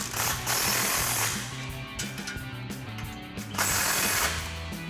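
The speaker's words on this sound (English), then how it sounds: "we're gonna grab our impact, extension, and 13mm swivel and tighten down our front flange" Impact wrench driving the front exhaust flange bolts on a Ford F-150 EcoBoost with a 13mm swivel socket: loud, close rattling hammer bursts, roughly three runs separated by short pauses.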